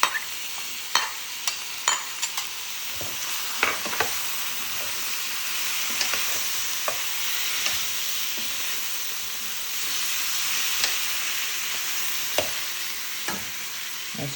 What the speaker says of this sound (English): Now we add the chickpeas.